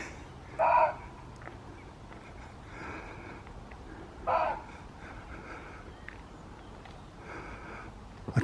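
Two short bird calls, harsh and caw-like, spaced a few seconds apart over a quiet background, with fainter calls in between.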